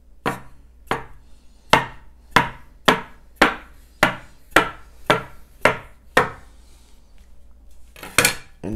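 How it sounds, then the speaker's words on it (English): A bench scraper chops a floured rope of ricotta gnocchi dough into pieces, giving about a dozen crisp, evenly spaced knocks on the board, close and clear, each with a short sharp attack and no talking. "my bench scraper, dust it with a little flour. I'm going to cut 3/4 inch pieces"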